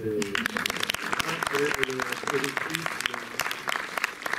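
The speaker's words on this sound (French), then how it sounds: "Donc, vous pouvez applaudir." A cinema audience at the Méliès in Montreuil applauds during a film meeting, with brisk, sustained clapping and a voice speaking over it.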